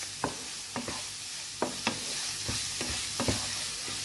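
A spoon stirs mixed masala into samosa filling in a pan, with sharp scraping strokes at irregular intervals over a constant sizzling hiss, close and fairly loud.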